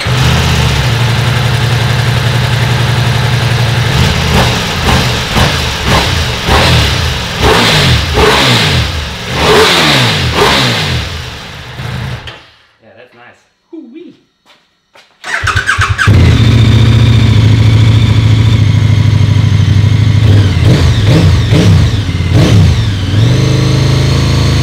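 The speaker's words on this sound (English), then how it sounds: "let's start them up, heat them up, and play a little bit with that throttle" A KTM 1290 Super Adventure R and a Ducati Multistrada V4, both fitted with Akrapovic exhausts, start up and rev, giving loud repeated throttle blips and idling. A brief quiet gap falls midway before a steady, strong engine roar returns.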